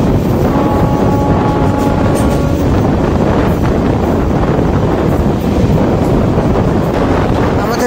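Kolkata Sairang Express rumbling at speed on the Sealdah–Lalgola line, a loud continuous broadband roar with wind buffeting, steady throughout, no talk.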